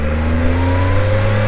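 A car pulls away from a traffic light with a loud, steady engine drone close by, its pitch rising gradually as it accelerates.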